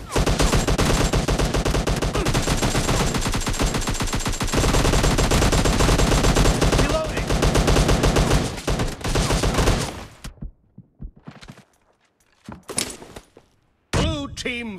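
Sustained automatic gunfire in a PUBG Lite team deathmatch, a dense rapid burst of shots lasting about ten seconds. It breaks off into a few scattered shots and clatters, then the shooting resumes briefly.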